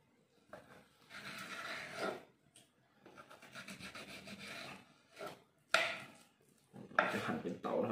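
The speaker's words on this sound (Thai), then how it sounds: "จะหั่นเป็นเต๋านะครับอย่าลืมเอาก้างออกก่อนนะครับ" A knife cuts tilapia fish into small cubes on a board, making close, dry scraping and chopping strokes in several bursts separated by short pauses, with no talking.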